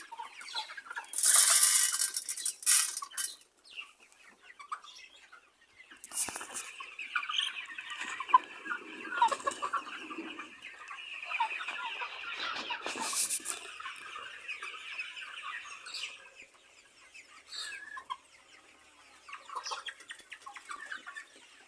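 Chickens in a poultry farm shed cluck and squawk continuously, a busy chorus of many birds with louder nearby calls rising over the steady flock noise.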